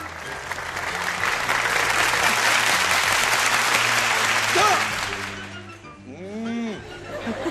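A theater audience led by a claque leader claps in a sustained, dense round that fades near the end, followed by a few voices and some laughter.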